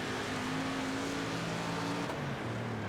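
Dirt race car engines in World of Outlaws: Dirt Racing, a sustained buzzing roar with pitch shifts as cars lap the track, one near engine dropping in tone toward the end, no talk.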